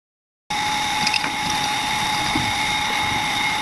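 A freshly repaired water pump engine starts up after a brief silence and runs steadily, pumping water with a constant close mechanical hum and a splashing wash over it.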